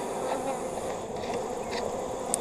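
Honey bees buzz steadily at an opened hive during a winter inspection, a dense continuous hum close by that holds level throughout without pauses.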